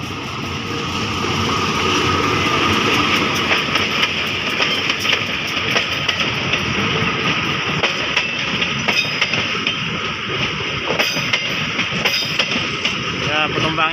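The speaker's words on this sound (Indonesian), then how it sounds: "Menggunakan lokomotif hidung miring kayak ini ya, hidung miring." A passenger train hauled by a sloped-nose locomotive rolls past at a crossing on the Indonesian railway, with a steady loud engine rumble and faint clickety-clack under it, while someone talks throughout.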